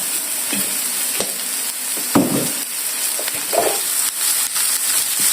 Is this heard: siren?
no